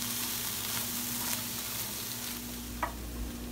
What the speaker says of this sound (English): first thing you want to get sauteing is some onions and red pepper